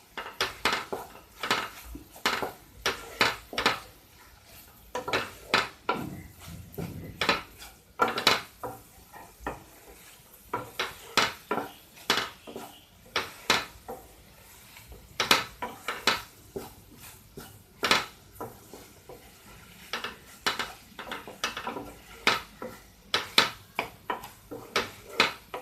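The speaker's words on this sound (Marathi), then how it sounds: "परत आपण भाजी व्यवस्थित परतून घ्यायची." Cluster beans and potato with Malvani masala and turmeric being stirred in a pan, a spoon scraping and clinking against the metal in quick repeated strokes, fairly close, with no talk.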